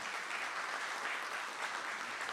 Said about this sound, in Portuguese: eu quero uma salva de palmas para o Ney